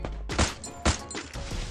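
Sharp gunfire from the Free Fire battle royale game, several loud cracks in quick succession with two especially heavy blasts, close and punchy against a busy game soundscape.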